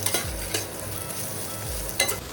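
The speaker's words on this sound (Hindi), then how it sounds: "थोड़ी देर इसको भी चलाने के बाद इसमें ग्राइंड किए हुए सारे मसाले डाल दी।" Okra sizzles in a pan with ground spices, stirred with a few scraping strokes over a quiet, continuous frying hiss.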